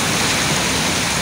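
Rough ocean waves at a fishing spot make a steady, loud broadband roar of surf and churning water that fills the whole moment without a break.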